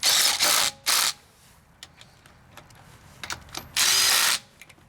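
A Ridgid subcompact brushless impact driver removes lug nuts, firing in several loud, close bursts of hammering whir: two short ones at the start, one shortly after, and a final longer one, with quiet clicks and handling noise in the gaps.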